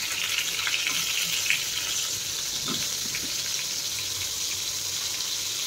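Tomato sizzles and fries in hot spiced oil, a continuous, fairly loud crackling hiss with a few faint clinks from a utensil, no voices.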